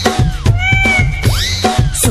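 A singer imitates a cat's meow in a Tharu folk song, with short wavering vocal meows over a loud, rhythmic musical backing.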